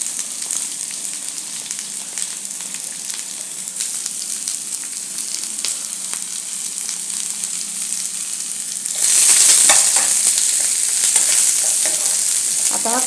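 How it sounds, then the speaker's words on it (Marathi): Chopped onion sizzles in hot oil in a pan, a close, continuous frying hiss with occasional stirring scrapes, growing louder and brighter partway through as it is moved around, with no voices. "तेल गरम झालं की त्याच्यात आपण कांदा घालूया।"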